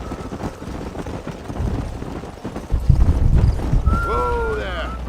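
Horse hooves clop on the ground in Red Dead Redemption, close and rhythmic, with a neigh rising near the end while a voice talks over it.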